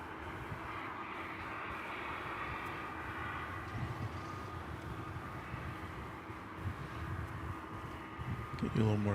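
A UPS Boeing 767 cargo jet arriving at a large airport gives off a faint, steady distant engine drone beneath low background noise, with a brief clatter near the end.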